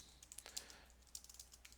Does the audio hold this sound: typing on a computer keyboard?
yes